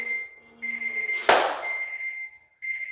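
An alarm clock beeps in a steady high electronic tone, briefly drowned by a loud crash or burst, then resumes and keeps ringing, cutting out for a moment near the end before starting again during a morning home workout.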